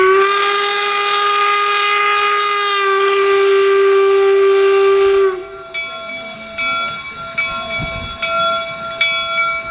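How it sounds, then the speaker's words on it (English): A steam locomotive at the Golden Spike site at Promontory, Utah blows a loud, sustained whistle for about five seconds, followed by fainter, lingering tones and rail noise. "once the locomotive does come to a complete stop, you'll of course hear the one whistle for stop"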